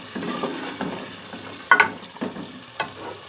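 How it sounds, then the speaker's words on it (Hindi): Chicken frying in masala in a pan sizzles softly, with scraping and clinks of a stirring spoon at irregular moments. "जब तक हम इसको भूनते रहेंगे चिकन को"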